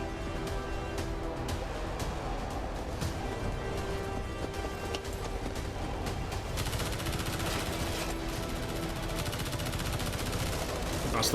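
Dense, continuous gunfire from the video game The Division 2, with rapid automatic bursts layered into a steady barrage that runs loud throughout.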